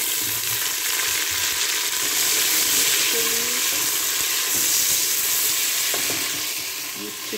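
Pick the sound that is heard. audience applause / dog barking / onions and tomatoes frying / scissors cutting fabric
onions and tomatoes frying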